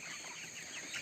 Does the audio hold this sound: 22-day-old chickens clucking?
yes